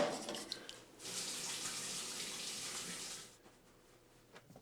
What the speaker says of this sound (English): All you really have to do is cover the carcass with water.